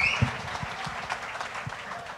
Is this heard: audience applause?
yes